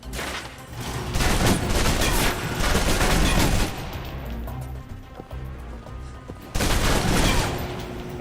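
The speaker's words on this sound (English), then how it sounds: "If you're trapped in close quarters with multiple opponents, the SMGs can help clear the room quickly." Submachine gun fire in the video game Alpha Protocol: loud rapid automatic bursts in two main volleys with a quieter gap between, close and dense, with no talk.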